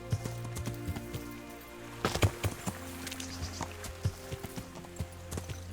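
Horse hooves thud at an uneven pace in Kingdom Come: Deliverance, medieval role-playing game footage, over a low steady hum, with a few sharper impacts mixed in and no voices.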